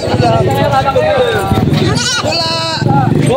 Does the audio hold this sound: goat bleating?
yes